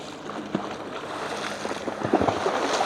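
Wake waves from passing motorboats wash onto a river delta shore near Rusnė. Soft lapping splashes build into a few louder slaps of water toward the end, with wind noise underneath.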